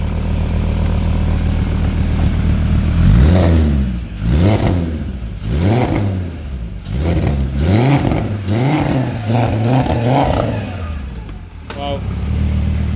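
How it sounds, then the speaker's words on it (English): A Nissan MR2 fitted with a turbocharged VR5 engine revving hard, a series of about six sharp throttle blips rising and falling after a steady idle, loud and close, with a voice heard over it. "Let me give it some throttle."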